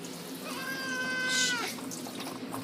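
A wet cat gives a single drawn-out meow, close and clear, rising and then falling over about a second against a quiet indoor background.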